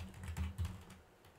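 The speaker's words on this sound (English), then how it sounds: "we're just going to type in TIA selection tool" Quiet, close typing on a computer keyboard, a short run of soft key clicks lasting barely over a second.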